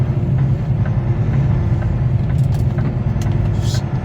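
A car drives along the road shoulder nearby, a steady loud rumble of engine and tyre noise throughout with no talking.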